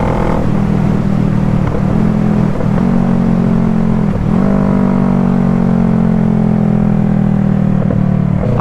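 Exhaust of a 2012 Kawasaki ER6N motorcycle rumbling while riding, a loud steady low drone with brief dips as the engine note shifts between gears, close and continuous.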